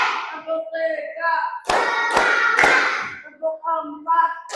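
Three sharp hand claps land close together in the middle, spaced by short gaps, between stretches of a voice talking.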